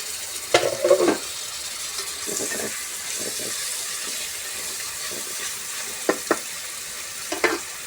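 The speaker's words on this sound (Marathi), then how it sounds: "ते तळल्याच्या नंतर मी टमाटर टाकून देते." Tomatoes hit a hot frying pan in a home kitchen, giving a soft, steady sizzle with a few brief stirring clatters and water-like bursts, fairly quiet and without talk.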